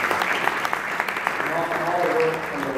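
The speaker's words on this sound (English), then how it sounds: "give a round of applause to some of the" Applause from a crowd at a convention gathering in Clearwater, a moderate patter of clapping that overlaps with a voice speaking partway through.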